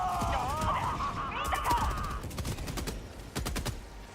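Rapid bursts of automatic gunfire in Helldivers 2, sharp cracks clustered in quick volleys against a steady game backdrop, with warbling high tones early on and a pause before the final flurry.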